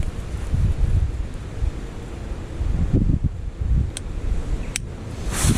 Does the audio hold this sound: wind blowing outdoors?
yes